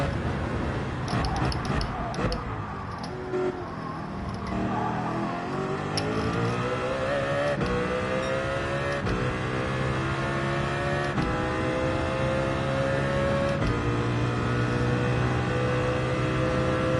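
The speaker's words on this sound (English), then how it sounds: "He is revving it out as well, so he is." A race car engine in Gran Turismo 7 revs and accelerates through the gears, its pitch climbing in repeated sweeps over a steady engine drone, with faint talk early on.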